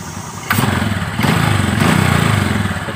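A carbureted motorcycle engine idles loudly with a steady, throbbing low putter that picks up slightly partway through.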